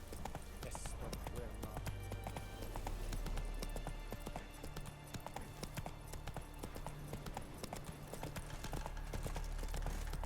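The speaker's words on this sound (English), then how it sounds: "Run, Roach." A horse gallops in The Witcher 3, a fast steady clip-clop of hooves running throughout, with game dialogue and music over it.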